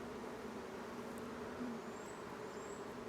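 Honeybees buzz steadily in an open hive that may be queenless, some carrying pollen. The drone is close, continuous and low-level, with no voices over it.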